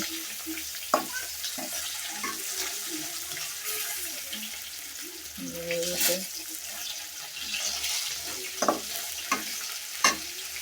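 Pieces of rohu fish belly fry in oil with a constant close sizzle, sharp spatters and clinks of a utensil, and brief speech over the top.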